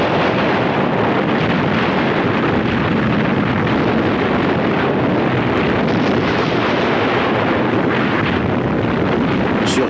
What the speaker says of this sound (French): Les soldats russes endormis furent écrasés par un déluge d'obus et de bombes.